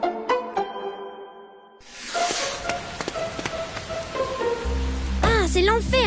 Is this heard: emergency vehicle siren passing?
no